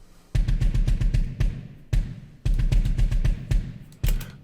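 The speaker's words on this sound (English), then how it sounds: "That sounds like a double kick." A computer-programmed metal drum pattern with rapid double-kick bass drum rolls under crashing cymbal and snare hits, played loud and tight in repeating bursts with no talking.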